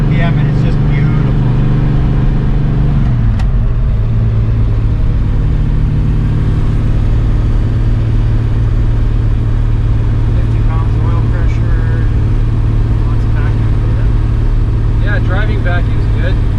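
A 1968 Chevelle with a refreshed LS6 454 V8 cruises along at about 2,900 RPM off the throttle, a loud, steady low engine drone from inside the car, with people talking over it.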